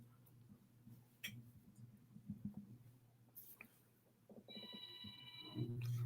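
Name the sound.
telephone ringing upstairs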